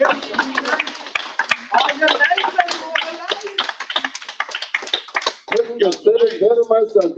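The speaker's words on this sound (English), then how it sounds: "Give him another round of applause" An audience at a Brooklyn Guyanese community meeting claps for a speaker, a burst of sharp, uneven hand claps fairly close, dipping briefly before picking up again, with voices mixed in.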